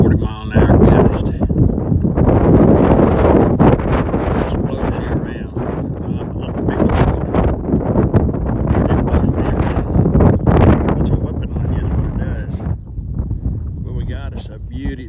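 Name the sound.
strong gusty wind causing microphone wind noise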